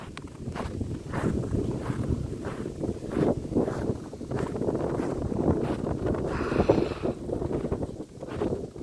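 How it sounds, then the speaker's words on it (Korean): Wind blowing beside a frozen reservoir, gusty buffeting rumble against the microphone with intermittent crunching steps, close and continuous. "바람이 불어서"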